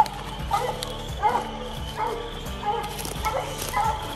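A bluetick coonhound barks at a raccoon treed in a den tree, repeated deep bawling barks about every three-quarters of a second, fairly near over a quiet night background.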